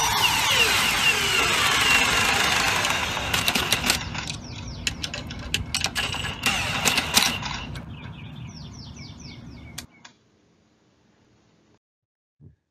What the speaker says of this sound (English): In this case, we'll be fastening a lag screw.